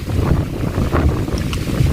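Steady wind gusting across an open field on a rainy, cold trail run at Khlong Maduea, a loud, constant rushing buffet against the microphone with no voices.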